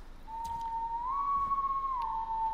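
A character whistles a clear, sustained tune in the video game Killer Frequency, one long steady note that bends slightly upward and back, with faint game ambience and a few light clicks behind it.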